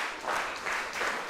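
A wrestling crowd at a tag team championship match cheers and applauds in a swelling, continuous roar that rises and falls in waves.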